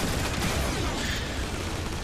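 Dense, continuous volley of turret fire from gun emplacements in the Transformers: War for Cybertron video game, a loud unbroken roar of rapid shots with no pauses.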